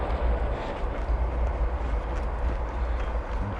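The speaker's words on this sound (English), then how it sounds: "Train." A train passes near a riverside footpath by the Little Ouse, a steady broad rumble with low-end roar holding for several seconds without talk.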